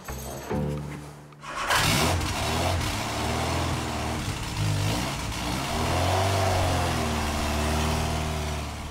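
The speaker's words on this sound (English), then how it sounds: "Pilgrim Sumo AC Cobra kit car, 2 litre Pinto engine, tuned Delotto carburetors." Engine of a Pilgrim Sumo AC Cobra kit car with a 2 litre Pinto engine and tuned Dellorto carburetors, based on a 1976 Cortina, starts with a sharp catch, then runs loudly at a rough, steady idle with a few blips of revving.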